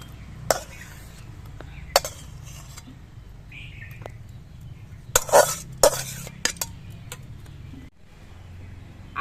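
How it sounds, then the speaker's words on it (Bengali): Cooked taro stolons tipped from a pan into a bowl in a home kitchen, giving scattered metallic clinks and scrapes of a utensil against cookware over a low, steady room background. "এবার এটা একটা গামলার মধ্যে আমি ঢেলে রাখছি"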